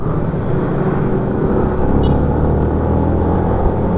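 A group of eleven motorcycles, including Hondas, riding together on the road toward Norzagaray, heard as a loud, continuous engine rumble and wind roar close to the rider, with no talk.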